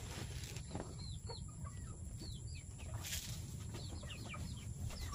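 Chickens clucking near their feed: repeated short clucks and chirps from several birds, close and moderately loud over a steady background noise, with no talk.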